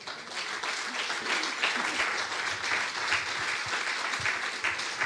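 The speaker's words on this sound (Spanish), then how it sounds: "¿Cuánto le damos un aplauso al Señor?" A church congregation gives a sustained round of applause, many hands clapping steadily and fairly close for about five seconds, with faint voices mixed underneath.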